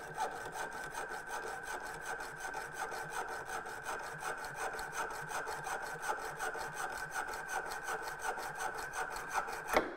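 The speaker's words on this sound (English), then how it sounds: "here you can just use a hacksaw first just to remove the larger amount here" A hacksaw cuts through a metal bench plane part in fast, even back-and-forth strokes, a rhythmic rasping that repeats steadily and close up with no talk.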